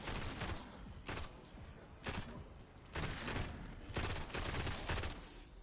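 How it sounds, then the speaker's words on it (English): Gunfire in Black Ops 6 Zombies tap-fired in short bursts, roughly one burst per second, each a cluster of rapid shots over a busy game background. "A little bit of tap firing goes a long way."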